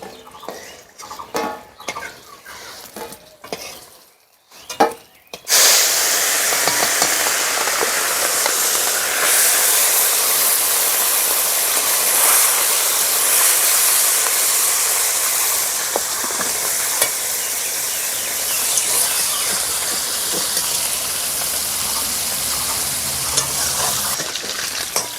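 Small fish fry in hot oil with a loud, steady crackling sizzle that bursts in abruptly after a few seconds of utensil clatter and continues unbroken at close range.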